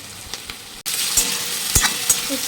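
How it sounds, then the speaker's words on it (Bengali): Sliced onions fry in a hot pan with a little salt and sugar: a steady close sizzle broken by a few sharp scrapes and clinks as they are stirred. "সামান্য লবণও দিলাম পেঁয়াজ বাজাতে আর একটু সামান্য চিনি দিলাম যাতে পেঁয়াজের কালারটা একটু ভালো লাগে"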